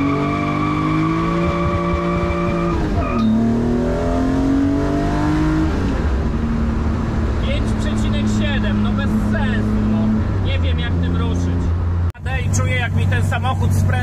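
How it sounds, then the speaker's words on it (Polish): BMW E36 with an M54B30 inline-six pulling at full throttle in second gear, a loud, close engine tone rising steadily in pitch and then dropping as the revs fall, with a sharp break near the end. "Jedziemy na drugim biegu. Gaz w podłogę."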